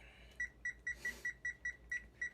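Kitchen timer being set, a rapid series of about nine short, evenly spaced high beeps, fairly faint and close, with a brief rustle partway through.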